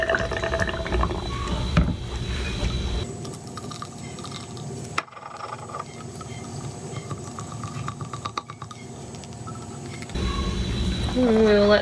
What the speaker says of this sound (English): we'll go ahead and put some more water in here